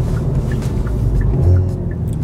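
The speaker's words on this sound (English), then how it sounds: "And that exhaust for a factory exhaust sounds really good." A Hyundai Veloster N with its factory exhaust rumbles steadily nearby, a deep, even engine drone that swells briefly midway and continues without talk.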